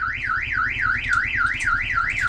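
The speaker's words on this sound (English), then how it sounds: "There's the alarm now just sounded as we had it set." A caravan's security alarm, on a 2018 Unicorn Cabrera, wails in a steady repeating rise-and-fall siren, loud and close, with no talking over it.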